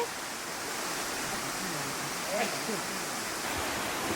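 A steady, unbroken rush of falling water fills the scene with even broadband roar and no pauses. A faint voice may surface briefly in the middle.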